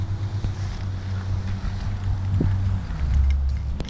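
A Can-Am Ryker Rally with an RLS Twin Kaos exhaust: a steady low engine drone with a deep rumbling idle, loud and close, heavy wind buffeting across the microphone, a brief rev bump near the end, no talk.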